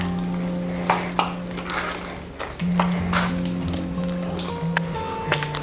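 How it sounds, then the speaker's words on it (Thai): A sticky chicken paste mixture for bouncy Thai chicken sausage being stirred with flour, giving soft wet squelching and scraping strokes in an irregular rhythm, close up over a steady background tone and low hum. "คนส่วนผสมให้เข้ากันอีกสักหนึ่งรอบ ให้แป้งนะส่วนผสมเข้ากันเลยค่ะ"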